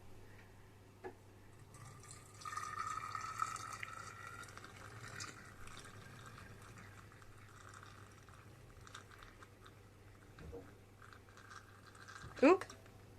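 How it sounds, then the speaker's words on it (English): Hot rosehip syrup poured through a funnel, a faint, uneven trickle and gurgle of thick liquid with soft clinks and a sharper splash near the end. "I'm tempted to pour it into a jug to make it easier"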